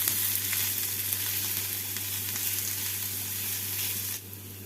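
Chopped onions frying in oil in a pan, a steady close sizzle with soft crackle throughout, no voices.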